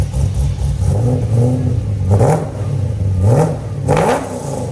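A supercharged V8 in a Chevy Camaro SS with long tube headers idles on a cold start with a loud, lumpy cam rumble, punctuated by several sharp revs that rise and fall in a rough rhythm.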